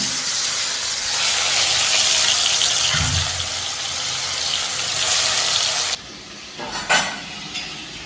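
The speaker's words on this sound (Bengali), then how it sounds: "হালকা করে ভেজে নিচ্ছি" Hilsa fish frying lightly in oil, a steady loud hiss and crackle running close and continuous for about six seconds, then dropping off sharply, followed by a few brief knocks and clatters.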